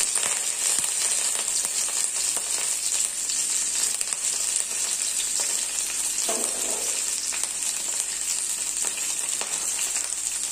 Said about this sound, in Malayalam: അതിനുശേഷം നമ്മൾ ഇട്ട് കൊടുക്കുന്നത് കുറച്ച് കറിവേപ്പിലയാണ്.